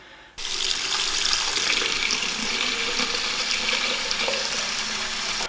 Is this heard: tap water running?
yes